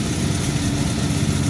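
A Backbone Machinery BB-TG80 rice thresher engine idles steadily at close range, a continuous low rumble running without a break and with no voices.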